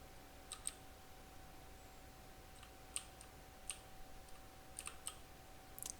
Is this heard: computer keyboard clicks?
yes